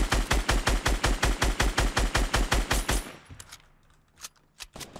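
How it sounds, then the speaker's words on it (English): Fortnite Battle Royale gunfire: a rapid, evenly paced burst of about sixteen loud shots for three seconds, then quiet followed by a few scattered, more distant single shots. "They're sniping from northeast"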